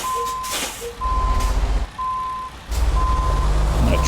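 Reversing alarm on a Western Star 49X truck in American Truck Simulator, evenly spaced loud beeps repeating over low engine rumble and a hiss of air, with someone talking.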